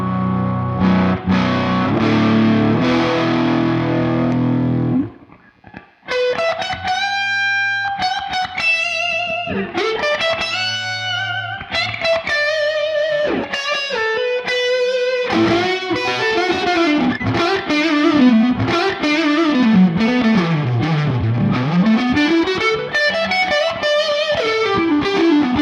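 A 1959 Les Paul electric guitar plays through a 1966 Marshall Bluesbreaker JTM45 amp with heavy distortion. A dense chord opens, then after a brief gap come sustained, bending lead lines and riffs, loud and close.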